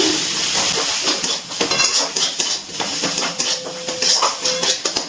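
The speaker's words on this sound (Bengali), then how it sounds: "খুব ভালো করে সব কিছু মিশিয়ে আর একটু কষিয়ে নিচ্ছি।" Spiced chicken masala mixture with coriander and cumin powder being sautéed in a pan, a hissing sizzle under repeated clattering scrapes of a spoon against metal, close and busy, with no speech.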